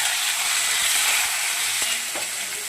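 Boiled papaya frying in a pan of chilli and garlic for a tangy chutney, giving a steady close sizzle with a few brief stirring knocks near the end.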